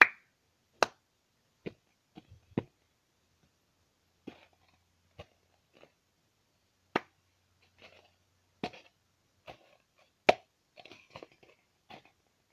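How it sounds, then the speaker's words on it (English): Two plastic cups worked slowly through the cup song rhythm: sparse, separate claps, taps and cup knocks on a table, spaced unevenly with short silences between, close and dry, with no voices. "this is the cup song with two cups. Now I'm gonna do it really slow for you."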